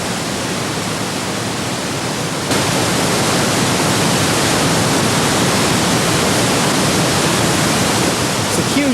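Water pouring out of Lake Tana into the Blue Nile, a dense, steady roar of rushing water close by that swells slightly louder partway through and continues unbroken.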